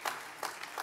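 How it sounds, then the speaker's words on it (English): A church congregation at a traditional service applauds briefly, a short burst of clapping from a crowd indoors with a few louder swells. "You can applaud that."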